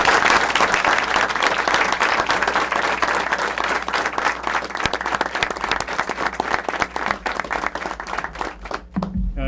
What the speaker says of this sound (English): we once again give one more round of applause